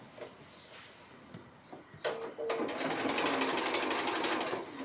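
A sewing machine stitches a quilt block seam for a mini pear sampler. A few faint clicks come first, then the needle runs in a fast, steady, close whir for the last few seconds.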